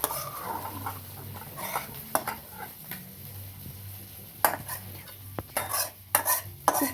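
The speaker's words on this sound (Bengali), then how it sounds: "এবার আমি একটু ফুটিয়ে একটু গায়ে গায়ে করে নেব।" Prawn malai curry simmering in a pan while being stirred, with scraping spoon strokes and clinks against the metal over a quiet bubbling sizzle, close and intermittent.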